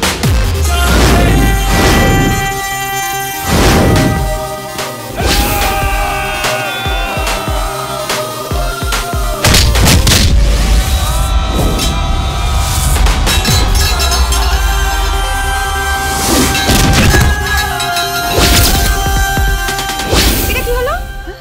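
Sharp loud bursts go off repeatedly at irregular intervals, some in quick clusters, over a dense, busy background.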